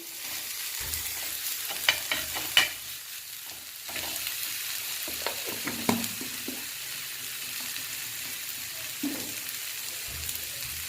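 Chil greens stir-fry on a tava with a continuous frying sizzle, broken by repeated scraping and clanking of a spatula against the pan at irregular intervals, close and fairly loud, without talking.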